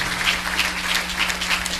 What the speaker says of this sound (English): Just we can give a clap offering unto her.